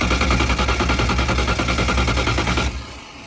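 An engine being cranked after a spray of brake cleaner, a loud rapid mechanical churning that runs steadily for nearly three seconds before cutting off abruptly.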